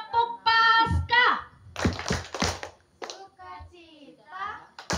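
Congregation voices chant in short rhythmic bursts for an Easter clapping game at an outdoor church service, with a quick cluster of sharp hand claps in the middle breaking through the loud, near chanting.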